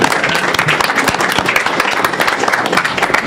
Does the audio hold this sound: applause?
yes